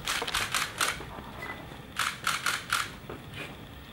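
A camera shutter firing repeatedly during an indoor window silhouette photo shoot: quick close bursts of crisp mechanical clicks, several in a row, then a pause and another rapid cluster.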